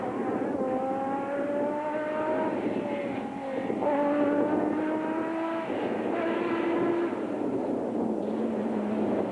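Off-road rally trucks, a Nissan Hardbody and a Ford Ranger, race in the Mafikeng 500 of 2004. Their engines climb in pitch through repeated gear changes, a continuous revving drone at moderate distance.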